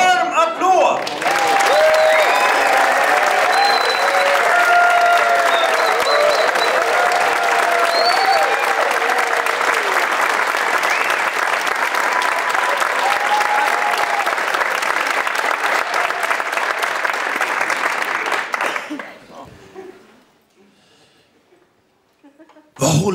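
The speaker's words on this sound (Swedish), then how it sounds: "Mina damer och herrar, ge Mårten Andersson en varm applåd!" A theatre audience gives loud, sustained applause with scattered whistles and cheers as Swedish comedian Mårten Andersson takes the stage for his stand-up show. The clapping fades out near the end.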